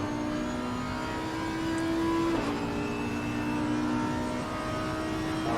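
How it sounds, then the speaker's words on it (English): A V10-powered GT3 race car in Assetto Corsa Competizione at Misano, engine droning steadily in an onboard view, then a sharp gear change around the middle before the revs climb again. No voices. "Right on board with his glorious V10 powered car."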